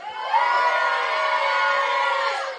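Crowd of supporters at an outdoor boxing match on 14 July cheering and shouting together, a sustained loud roar with high children's voices mixed in, holding steady for about two seconds before easing off.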